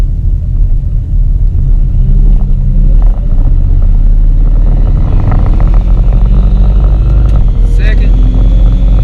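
A turbo Camaro with a TH400 transmission and reverse manual valve body pulls hard in first gear, a loud, close, steady engine roar from inside the car.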